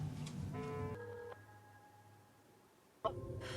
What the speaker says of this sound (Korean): 전화 온다